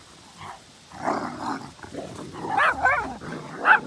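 A Great Dane and Poodle mix puppy gives several short barks and yips, building toward the end of the clip, close by and fairly loud, with no speech over them.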